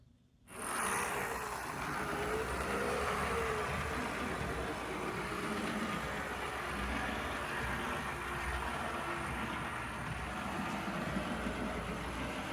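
A restored Varney Deluxe F3 model train locomotive with V4 power runs on a layout, its small motor starting up and then holding a steady, quiet, even hum.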